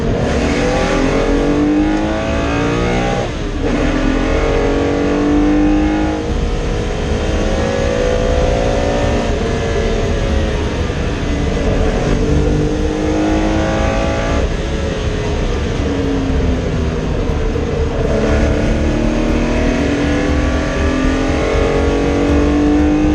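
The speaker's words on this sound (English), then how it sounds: "The red lights go out, and immediately the hugely powerful V8s blast past Robert on the pit straight" Powerful V8 race cars blast past on the pit straight at Donington Park, a loud continuous engine roar with rising and falling revs as several cars accelerate by in succession, no talk.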